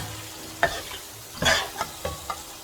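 Chicken qorma masala is mixed in a pot, producing a few close scraping and stirring strokes over a faint sizzle, spaced irregularly and quiet overall.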